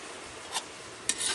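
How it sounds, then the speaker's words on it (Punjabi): Grated carrots being stirred in ghee for gajrela: two brief close scrapes of a spoon against the pan over a faint background hiss, with no voices. "ਆ ਕੇ ਇਹਨੂੰ ਮਿਕਸ ਕਰਨਾ ਪੂਰਾ ਮਿਕਸ ਹੋ ਜਾਏਗਾ"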